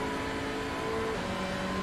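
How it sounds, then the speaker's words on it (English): Hyundai race car engine in a racing video game at Donington Park, a steady droning hum with tonal engine harmonics that rise slightly, continuous and moderately loud with no speech. "Have a listen to that engine sound."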